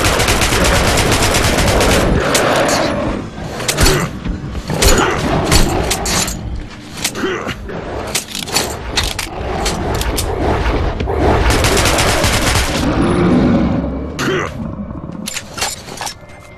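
Loud, dense gunfire from the video game Metro Last Light, with sustained bursts of rapid shots and booming blasts filling most of the stretch amid heavy game background noise.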